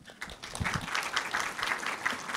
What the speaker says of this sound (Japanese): 皆様大きな拍手をお送りください。